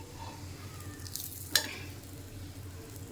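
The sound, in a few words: paratha frying in oil on a pan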